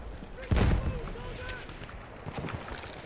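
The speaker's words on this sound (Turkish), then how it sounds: "Bu adam hala şey spamlıyor. Bomba spamlıyor." Bombs spammed by an enemy in Battlefield 1 go off in a heavy blast burst about half a second in, followed by rumbling debris and lighter distant thuds, with a player talking and laughing over the action.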